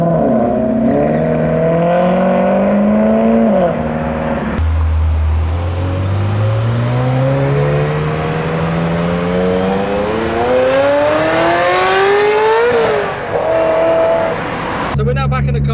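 Modified and classic cars pull away one after another from a car show on a rainy day, engines revving up through the gears with rising pitch, loud and close, with people talking nearby.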